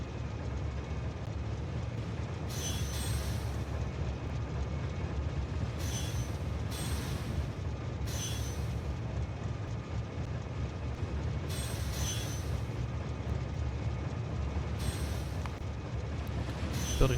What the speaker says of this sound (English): The red train can only continue once the cyan train starts moving along.